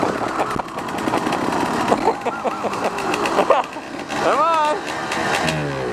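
A motorcycle engine on a trail ride, sounding like it needs a service, revs and sputters unevenly close by while a rider talks over it with brief shouts.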